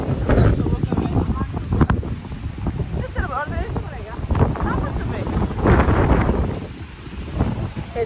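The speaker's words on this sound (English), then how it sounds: "It's a lot windier up here and a little bit more chilly." Strong wind gusts across a hilltop road on the way to a farm in Timor, East Timor, roaring and buffeting the microphone in loud, uneven surges with occasional rumbles.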